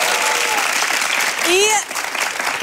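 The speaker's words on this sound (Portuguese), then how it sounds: "uma salva de palmas" A studio audience on a Brazilian TV show breaks into brief, lively applause, thick clapping with a few rising whistles and voices cutting through near the end.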